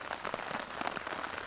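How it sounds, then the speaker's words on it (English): Rain patters steadily on a surface during suburban stealth camping, a dense, even spray of drops with no pause, fairly close and moderate in level. "Rain seems to be letting up a little bit."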